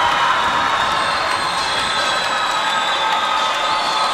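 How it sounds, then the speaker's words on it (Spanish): A crowd at a national championship boxing match claps and cheers in a dense, continuous roar that fills the hall, loud and close with no break. "Aplausos para Zabaleta"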